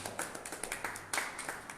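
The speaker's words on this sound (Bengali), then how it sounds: "তার জন্য একবার হাততালি।" Applause at a football team announcement ceremony honouring a reserve midfielder, a small scattered crowd clapping faintly in an uneven patter for under two seconds.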